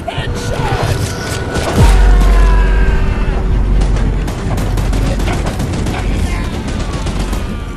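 A train-mounted gun in Choo Choo Charles fires a dense, continuous stream of loud shots, with a heavy boom near the start and sustained rumbling bursts to the end. Voices call out briefly.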